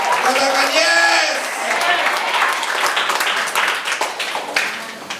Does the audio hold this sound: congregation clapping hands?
yes